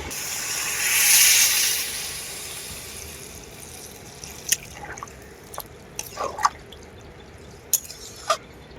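Water is poured into a pan of sautéed potato, eggplant and tomato curry, giving a brief hissing rush followed by scattered small drips and splashes, close by and with no talk.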